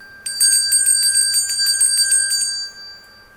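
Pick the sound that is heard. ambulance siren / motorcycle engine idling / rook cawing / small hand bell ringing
small hand bell ringing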